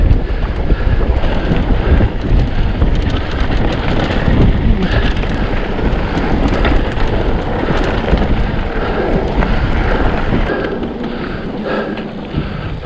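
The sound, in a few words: headwind blowing while cycling downhill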